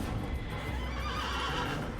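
A horse neighing in the video game Assassin's Creed, a loud, close whinny that rises and wavers over about two seconds, with faint hoof clopping underneath and no speech.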